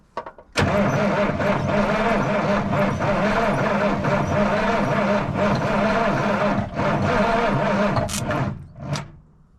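A 1977 Peterbilt 359 truck that has sat for 20 years cranks and catches, its diesel engine roaring into a loud, rough running rumble up close that holds steady before dipping and cutting out near the end.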